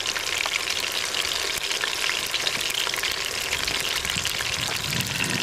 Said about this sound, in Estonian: Vaat kui kenasti ta säriseb.